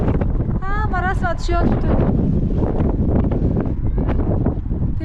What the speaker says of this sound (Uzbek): Shamol juda ham kuchli